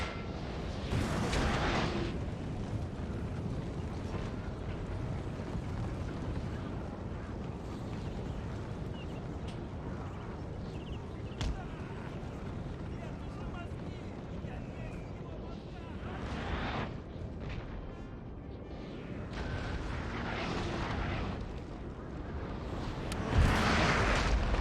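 Cannon and artillery fire rumbles across a Napoleon: Total War battle, with repeated heavy booms and low, continuous thundering over a steady din, while a player talks over the gunfire.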